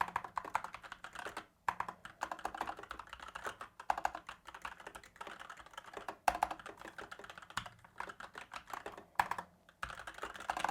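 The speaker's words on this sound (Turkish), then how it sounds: "Bu klavyede kırmızı switch kullanıldığı için mavi anahtarlar gibi klik sesi yok." Soft, muffled keystrokes on an Asus ROG Strix Scope NX Wireless Deluxe keyboard with red switches, typed in quick irregular bursts with brief pauses, close by and without sharp clicks.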